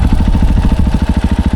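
Loud, close motorcycle idle: a low, even chugging pulse with rapid regular beats and some mechanical rattle.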